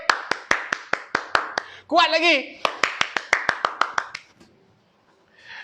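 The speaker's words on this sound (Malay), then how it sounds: "Tepuk tangan sikit." A primary school maths class claps hands in quick, sharp, evenly spaced bursts, two runs of crisp slaps with a voice speaking between them.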